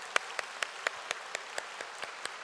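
A church congregation claps in steady unison, about four sharp claps per second, evenly spaced and moderately loud, with no talk over them.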